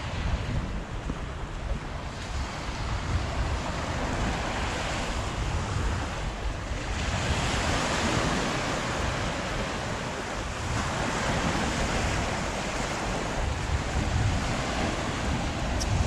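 Waves washing onto a beach at Buncrana, County Donegal, with the tide in; a continuous broad surf roar mixed with wind buffeting the microphone, steady and close throughout.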